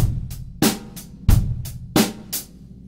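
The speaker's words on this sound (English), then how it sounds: "Previously, we were playing a basic eighth note hi-hat pattern that sounded like this." A drum kit plays a basic eighth-note hi-hat pattern with kick and snare underneath, a short clean groove of crisp, evenly spaced hits and no voices.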